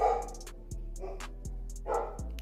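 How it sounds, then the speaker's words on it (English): Dogs bark repeatedly indoors, with several sharp, fairly close barks and yips spaced irregularly over a low steady hum. "we got them barking dogs"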